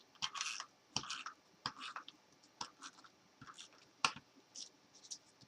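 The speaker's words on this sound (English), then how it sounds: "I'll use my Hallmark tape runner to adhere this on here" Hallmark tape runner laying adhesive onto card paper, a series of short crackling, tearing strokes with clicks between them, close and quiet.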